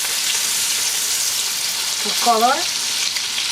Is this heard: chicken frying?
yes